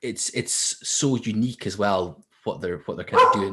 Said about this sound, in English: So that's my dog barking